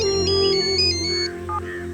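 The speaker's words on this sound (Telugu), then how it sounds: "అమ్మా ఫోన్." A mobile phone ringtone plays a bright melodic electronic tune of short sustained notes, close and clear for about two seconds with no voices.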